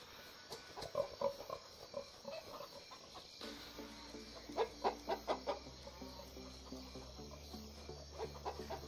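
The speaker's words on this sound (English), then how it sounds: "I think the rooster wants me to follow it." A rooster in the video game Valnir Rok clucks in a series of short calls over steady insect-like chirping ambience, with a low game hum coming in midway.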